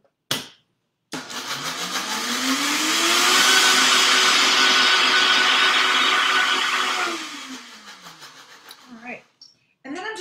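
A kitchen blender pulses a smooth, creamy Dijon tarragon sauce in one long run: the motor whirs up, holds a steady loud whine for several seconds, then winds down, with brief clatter before and after.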